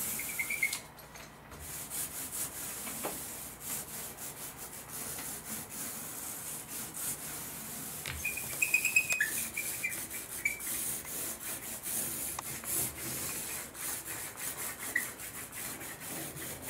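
A paint roller applying a second coat to bare pine wood primed with shellac, heard as a soft, continuous rubbing and swishing with faint sticky crackles, close and quiet, without speech.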